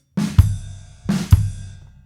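Two snare drum hits, each a short buzzed roll standing in for a drag, landing close and loud in a regular groove, with a low thump under each and ringing decay between, without any voices.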